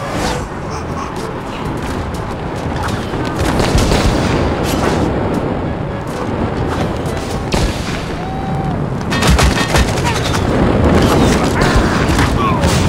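Repeated booming bomb blasts from the Zooba battle game burst loud and dense throughout, layered with game effects while someone talks excitedly over the action.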